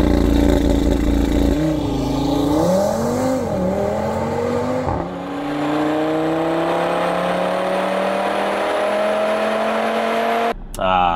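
An Audi RS3 with its 2.5-liter five-cylinder engine revs hard, its pitch swooping up and down in a few throttle blips, then rising in a long steady climb under acceleration, loud and close throughout.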